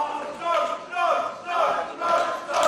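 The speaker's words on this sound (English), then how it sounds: "Oh, listen to this crowd reaction" A wrestling crowd at a singles match between Martin Stone and Terry Frazier cheers for Stone, its roar rising and falling in regular rhythmic waves like a chant.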